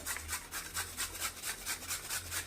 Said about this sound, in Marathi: आता हा साल काढलेला बटाटा यामध्ये डायरेक्ट ह्या पिठातच आपण किसून घ्यायचं आहे